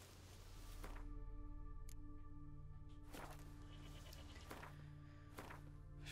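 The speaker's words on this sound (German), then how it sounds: "Ich höre eine Ziege" Goat in The Witcher 3 Complete Edition on Nintendo Switch, bleating several times in a row, a couple of close, wavering cries over a steady droning game ambience.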